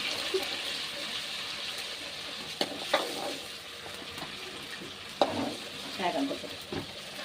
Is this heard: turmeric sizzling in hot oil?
yes